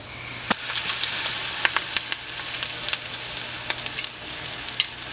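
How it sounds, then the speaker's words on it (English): A dollop of seafood mixture frying in hot grease, a steady close, loud sizzle with crackling pops and spits scattered throughout, no talking over it. "Hear that sizzle?"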